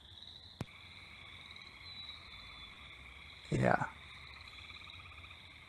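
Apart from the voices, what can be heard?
gray tree frog call, melodious continuous trill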